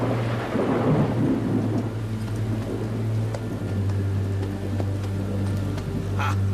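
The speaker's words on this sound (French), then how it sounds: "l'orage m'a surpris dans la forêt" A thunderstorm breaks over a forest. A rolling crack of thunder comes first, then fades into a steady hiss of rain over a low, continuous rumble, with no voices.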